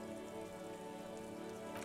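Steady rain ambience from the video game Disco Elysium: a soft, even hiss of falling rain on surfaces, continuous and faint, with no voices.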